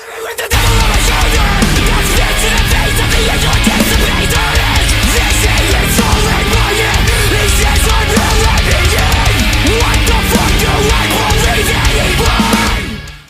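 Heavy hardcore music from a band plays at full volume for about thirteen seconds, a dense wall of distorted guitars and pounding drums with a constant driving rhythm and no speech over it.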